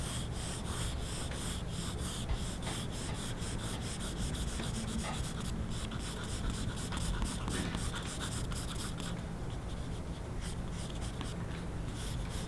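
A pencil scratches and rubs across paper in continuous cross-contour strokes, a steady close scratchy texture broken by quick repeated strokes, with no voices.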